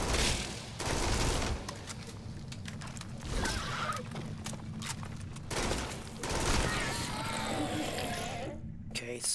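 Rapid-fire weapon shooting in the sci-fi game Starfield, with several dense bursts of close gunfire separated by short gaps and a sudden cutoff near the end.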